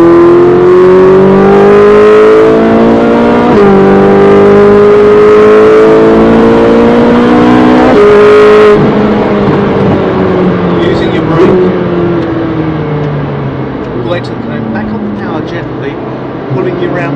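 Race car engine loud and near at Brands Hatch Indy circuit on a wet, drying track, pulling steadily up through the revs with several gear changes, then easing off and building again, with a voice talking over it.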